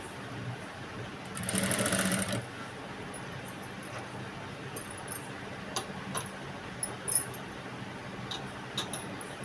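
A sewing machine stitches layered blouse fabric. A short, loud whirring run of stitching is followed by quieter mechanical clicks and ticks.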